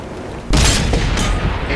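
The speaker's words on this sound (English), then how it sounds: "we're gonna try to shoot a couple rounds over the middle here" The O-Ni tank's cannon fires in World of Tanks on PS4, a sudden loud boom after a quieter start, with another burst shortly after and a rumbling tail.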